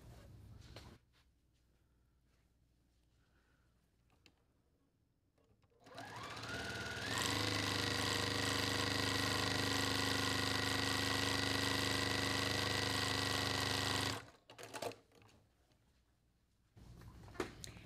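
A sewing machine runs continuously for about eight seconds while stitching a quilt, a steady close mechanical whir that starts up sharply and stops abruptly, framed by quiet room sounds before and after.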